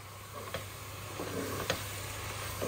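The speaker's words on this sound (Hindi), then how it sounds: "अब इसकी अच्छे से भुनाई कर लेंगे।" A masala of spices, tomato and onion fries in a pan, giving a soft, low sizzle with a few faint ticks and scrapes from stirring, heard alone without talk.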